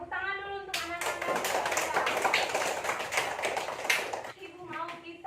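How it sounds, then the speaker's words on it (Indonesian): Schoolchildren in a classroom burst into a few seconds of lively, dense applause, framed by brief voices speaking just before and after. "tepuk tangan dulu untuk anak-anak"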